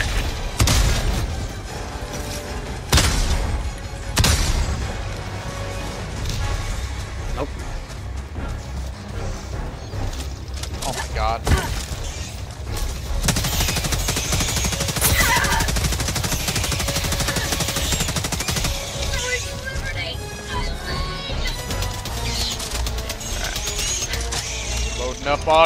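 Autocannon fire in Helldivers 2 during a hectic fight, with heavy repeated bursts of shots and crashing impacts over dense mechanical battle noise, while players talk excitedly throughout.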